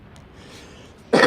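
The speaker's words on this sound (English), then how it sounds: "apologies for the cough" A single sharp cough bursts out near the microphone at the very end, loud and broad, after a stretch of quiet background.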